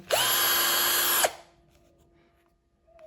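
A Tex.AC TAOE-CD33 cordless screwdriver runs in one loud, steady whine for about a second, then stops abruptly, leaving quiet room tone with faint clicks.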